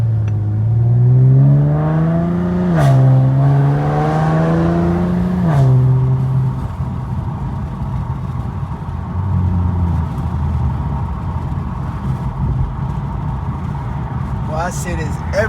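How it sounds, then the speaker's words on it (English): Infiniti Q50S engine accelerating, a rising whir as the revs climb and then settle into a steady cabin drone, with someone talking loudly over it at the start. "I love hearing the car."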